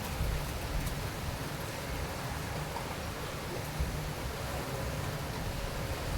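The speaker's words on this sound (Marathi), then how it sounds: "बघा तो कसा पाऊस पडतोय, हवा पण सुटली आहे." Heavy monsoon rain pouring steadily with wind, a dense, even hiss of rainfall that stays constant throughout.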